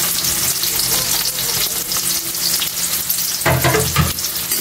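Garlic, onion and ginger sautéing in a pan for pork dinuguan, giving a dense, steady sizzle that swells louder near the end as stirring scrapes through it.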